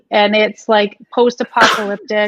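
A single sharp sneeze bursts out briefly in the middle of close, continuous speech, with conversation going on around it.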